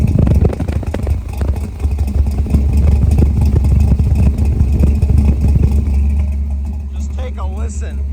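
Deep, rumbling exhaust of a 1966 Chevrolet Chevelle recorded close to the tailpipe, loud and throbbing with uneven lopey pulses, while someone talks over it.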